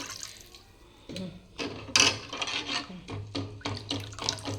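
A little water is splashed into buttermilk sambar in a home kitchen. Several close pouring and splashing bursts come in quick succession at a fairly loud level, with no talk over them.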